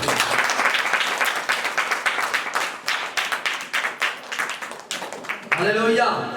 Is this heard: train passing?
no